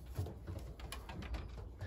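Racing pigeons in a loft give soft, low cooing calls repeated irregularly, faint against a quiet background hum.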